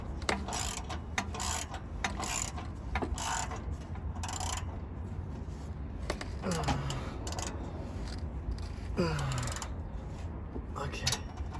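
Quiet clicking of a ratchet wrench snugging exhaust bolts during a catalytic converter install under a car, bursts of rapid pawl clicks repeating in short runs with brief pauses and some background noise.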